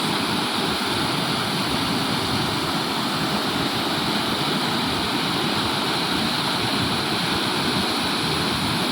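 Floodwater rushing down from hills, a loud, dense and continuous roar of churning water close by, steady throughout with no voices.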